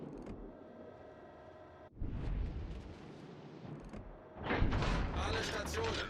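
Heavy naval guns of a warship fire armor-piercing shells in the World of Warships game, deep booming blasts rolling under a sustained engine and mechanical drone, with louder bursts toward the end.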